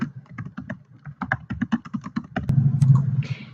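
Fingers tap rapidly on a computer keyboard, a brisk run of close clicking keystrokes followed by a louder low rumble near the end.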